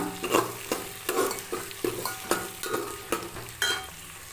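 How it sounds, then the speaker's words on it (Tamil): Onion and garlic sautéing in a pan for a Chettinad broad bean and brinjal kara kuzhambu, a steady close sizzle punctuated by regular stirring scrapes roughly twice a second, with no talking. "பாருங்க வெங்காயம் பூண்டு நல்லா வதங்கிட்டுருக்கு"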